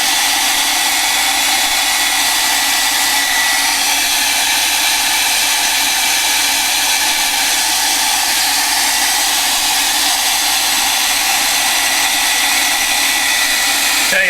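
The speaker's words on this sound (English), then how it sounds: "I don't know if I should edit the hair drying out" A hair dryer runs steadily and loudly throughout, a continuous broadband whoosh with no pauses, close by.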